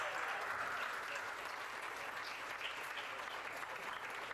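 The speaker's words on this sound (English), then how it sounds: "Let's have another round of applause for everyone tonight." Awards ceremony audience giving a round of applause, a full, sustained wash of many people clapping at steady loudness, heard alone and continuing throughout.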